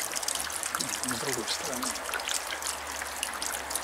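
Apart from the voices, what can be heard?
water dripping from a leak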